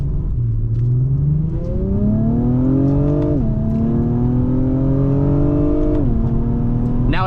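A 2024 Acura TLX Type S accelerating hard in sport manual mode from the cabin, the engine note climbing steadily through two rising sweeps with brief drops at each upshift, loud and continuous with no talk.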